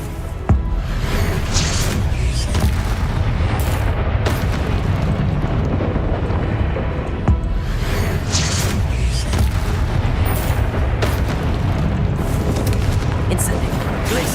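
Confringo explosive spell blasts in the Hogwarts Legacy video game pound through a loud, busy mix, with sharp booming bursts recurring over constant game noise.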